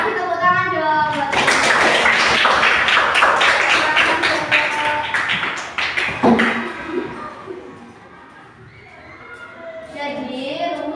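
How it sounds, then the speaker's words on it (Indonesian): Children in an elementary math class clap together in a lively burst of applause lasting several seconds, with a voice talking before and after and the clapping fading into quieter chatter. "Kasih tepuk tangan dong buat"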